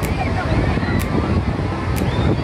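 Ocean surf rolls steadily onto a quiet beach on Cat Ba Island, a continuous broadband wash mixed with wind buffeting the microphone, loud and close throughout.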